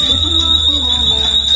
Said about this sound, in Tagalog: Sorry, may alarm pala siya, oh.